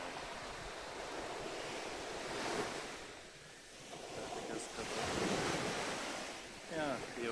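Surf at Haeundae beach in Busan on a hot day washes in steady rolling surges, with strong wind buffeting the microphone and a faint voice briefly in the background.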